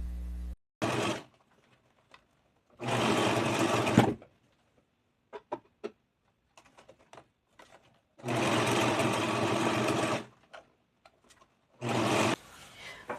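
Sewing machine stitching a hem on fabric for a first garment, running in several loud steady bursts of a few seconds each, separated by quiet pauses with small clicks and handling sounds.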